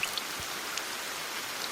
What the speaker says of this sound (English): the sky darkened, and it began to rain